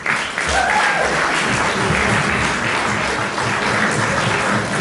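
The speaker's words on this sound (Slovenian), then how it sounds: "Prosim za aplavz." Audience applause for a visiting Slovenian quartet at a community celebration in Stockholm, a dense, steady wash of many hands clapping throughout, loud and continuous from start to finish.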